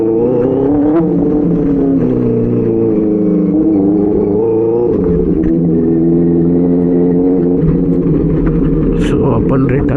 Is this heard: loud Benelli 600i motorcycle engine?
yes